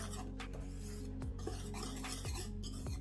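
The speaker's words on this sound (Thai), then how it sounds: "คนส่วนผสมให้เข้ากัน" A utensil stirs a dry seasoning mixture with garlic powder for KFC-style fried chicken in a bowl, giving repeated scraping and clinking strokes against the bowl, close and fairly quiet, with no talking.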